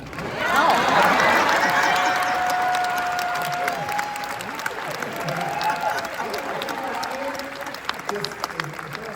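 A conference audience gives itself a big round of applause, loud and dense at first with some cheering, then thinning to scattered claps while voices carry over it.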